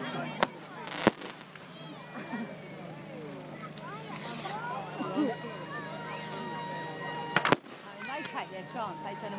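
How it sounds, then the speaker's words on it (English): Fireworks burst at an RC plane field, with sharp cracks and bangs at irregular intervals, crackling and whistling between them, and people chatting nearby. "this is the best fireworks ever, isn't it?"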